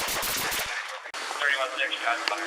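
Gunfire rings out in police footage as a rapid burst of loud booming shots, then a harsher, noisier stretch with overlapping sounds and a voice.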